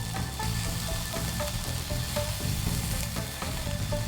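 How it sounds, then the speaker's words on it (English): Beef patties fry over medium heat in a pan, giving a steady close hiss with small pops and crackles all the way through and no voices. "Occasionally rotate the pan to brown the patties evenly. Cook on medium heat for about 2 minutes."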